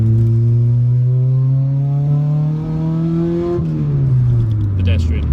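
A 233 bhp Honda Civic Type R accelerates hard in third gear, heard from inside the car. The loud engine note climbs steadily in pitch for several seconds, then drops abruptly as the throttle eases.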